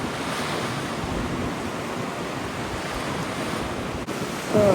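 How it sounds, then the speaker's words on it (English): Steady, roaring wind buffeting the microphone outdoors on a sailboat, with a constant rushing wash like surf or water beneath it and no speech. "A bit windy."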